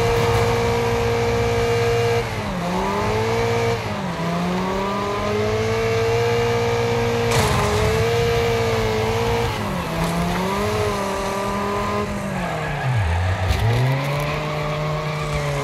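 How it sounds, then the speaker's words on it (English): The Bulldog car races at Bonebreaker Valley in Wreckfest, its engine revving hard and loud, climbing and dropping again and again through gear changes with a strained, buzzy tone. "The engine on this car sounds like Kermit the Frog screaming."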